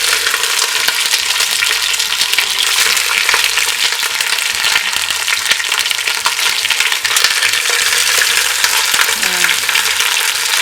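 Large chicken pieces browning in a single layer in a pan with no seasoning, a loud, dense, continuous sizzle close up with faint crackles throughout.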